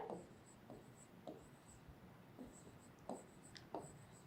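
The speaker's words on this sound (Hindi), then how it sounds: "तो अब हम यहाँ पर लिखेंगे टीचर" Writing a word on a board or paper during a classroom lesson, with a handful of short scratchy strokes spaced a beat apart, close and quiet against a faint steady hiss and no speech.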